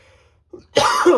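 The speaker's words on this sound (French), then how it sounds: "je tousse et je m'excuse" A single harsh cough from a sick man, close and loud, preceded by a small throat sound, in an otherwise quiet room.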